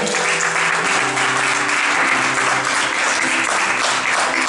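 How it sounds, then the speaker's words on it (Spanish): A congregation claps together in a Spanish-language church service, a dense, loud and continuous wash of applause that fills the room with no speech over it. "denle una ofrenda de palmas al Señor."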